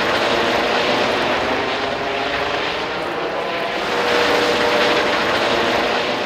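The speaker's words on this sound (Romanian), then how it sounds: "Aparatul de zbor a aterizat pe unul din stadioanele din oraș." An SMURD emergency helicopter lands at a city stadium, its engine and rotor making a loud, steady, broadband roar that swells slightly toward the end, with no voices.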